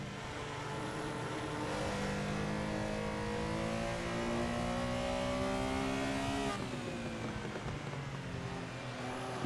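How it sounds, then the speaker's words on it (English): A Porsche Carrera RSR race car in the Assetto Corsa racing game howls at high revs, pitch climbing steadily before a sharp upshift drops it, with a backfire crackle near the end. "Love that backfire out of the car."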